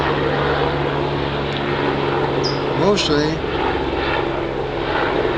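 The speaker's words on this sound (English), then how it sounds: "a helicopter going overhead" A steady low helicopter engine drone hums overhead, with a voice speaking briefly over it.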